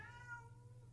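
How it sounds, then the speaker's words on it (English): A pet cat meows once in a long, drawn-out cry with a wavering pitch, heard alone in a quiet room and somewhat faint, as if from a little distance. "I don't know if you heard my cat, but she was screaming in the background."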